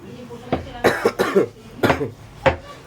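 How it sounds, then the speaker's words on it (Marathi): A person coughs several times in short, sharp bursts, close and fairly loud, with brief pauses between them. "मला थोडा खोकलाही आहे"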